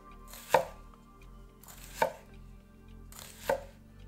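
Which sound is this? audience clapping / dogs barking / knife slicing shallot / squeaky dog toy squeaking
knife slicing shallot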